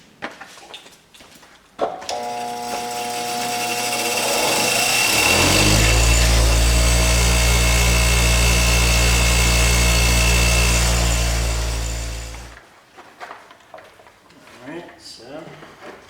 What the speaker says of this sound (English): I'm just going to put a grind down the center like that